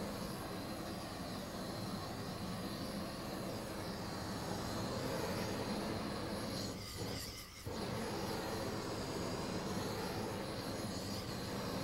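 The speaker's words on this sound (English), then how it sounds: "When you reach the end of the tube, move the torch to a 90-degree angle to the cable" A gas torch roars steadily while heat-shrinking tubing over a 15 kV cable splice, a continuous broadband hiss that holds nearly constant and dips only briefly partway through.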